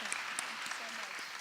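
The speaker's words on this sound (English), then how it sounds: "Can we give them another round of applause?" An audience claps through a short burst of moderate applause, with a few sharper individual claps standing out.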